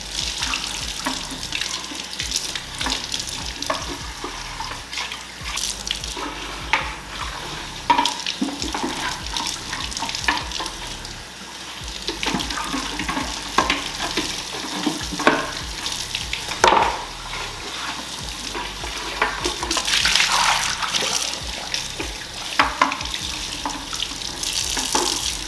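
Water runs steadily from a tap as a dispenser is rinsed out, a continuous splashing rush with small surges and clatters throughout, close and alone with no talk.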